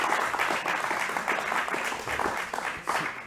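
Audience at a public debate applauding the speakers, a steady dense wash of clapping that holds throughout at moderate loudness, with no voices above it.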